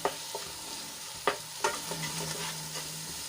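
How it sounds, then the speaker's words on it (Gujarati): Red chilli powder and spices stirred and sautéed in a pan for Punjabi-style rajma, giving a soft steady sizzle broken by a few sharp scrapes and clicks of the spoon, with no talking. "મસાલાને સરસ રીતે મિક્સ કરીને આપણે થોડીવાર માટે સાંતળી લઈશું"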